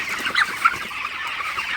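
Broiler chickens cluck softly in a brief, fairly quiet stretch, a few short calls over a low barn hum.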